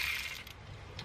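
A wrench breaks a 13 mm bolt loose during a hood vent install, making a short metallic ratcheting scrape followed by a faint click, close up and without speech.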